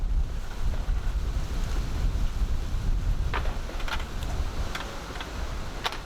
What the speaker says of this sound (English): It's a little windy out here, so hopefully the wind noise isn't bothering you too much